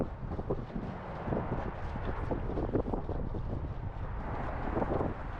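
Wind blows steadily outdoors on the water during a fall fishing trip for smallmouth bass, a continuous broadband rush with gusty buffeting against the microphone, no voices.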